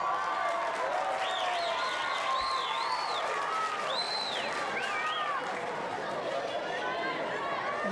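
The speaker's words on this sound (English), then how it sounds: "Sarcastic applause from the crowd as the decision goes the Jets' way." A football crowd at a women's A-League match between Newcastle Jets and Brisbane Roar gives scattered sarcastic applause over a broad stadium murmur, while a commentator talks over it and whistles and shouts rise now and then.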